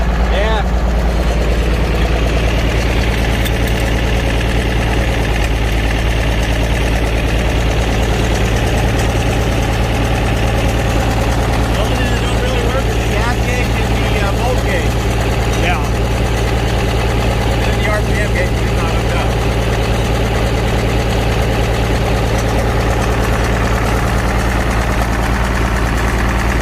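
Farmall tractor engine idling loudly and steadily nearby with a low chugging vibration throughout, while people talk intermittently over it.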